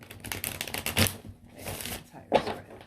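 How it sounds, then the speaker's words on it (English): A tarot card deck is given a quick shuffle and cut, producing a series of crisp riffling bursts and papery slaps at close range, with one sharp snap near the middle and another toward the end. "I'm going to use a quick shuffle"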